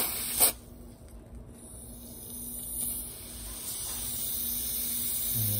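Canned air used as freeze spray hisses onto an iPhone XR logic board, a close, steady broadband spray building gradually after a brief click, with no talking.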